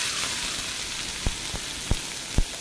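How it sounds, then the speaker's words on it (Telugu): Cumin seeds drop into a hot kadai, setting off an even crackling hiss with a few sharp pops near the end. "కాస్త జీలకర్ర వేస్తున్నాను."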